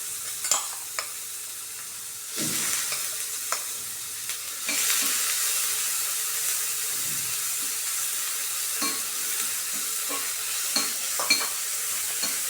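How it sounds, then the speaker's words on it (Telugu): Finely chopped onions frying in a little oil in a pan on the stove, with a steady close sizzle and repeated scraping stir strokes, louder bursts of crackle coming in partway through. "స్టవ్ మీద ప్యాన్ పెట్టి కొద్దిగా ఆయిల్ వేసాను, ఎక్కువ కాదు. దాంట్లో బాగా సన్నగా కట్ చేసిన ఉల్లిపాయలు"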